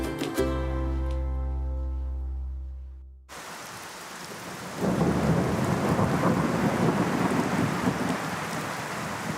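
A heavy rain cloudburst falls over a garden, opening with a long rumbling roll of thunder that fades away before a loud, dense downpour hisses and pours steadily on the surfaces nearby.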